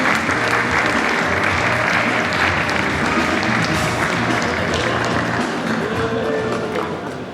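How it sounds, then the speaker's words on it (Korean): Church audience applause welcoming a pastor, a dense, loud, sustained clapping from a crowd that holds steady and then eases off slightly at the end. "박수로 한번 받겠습니다"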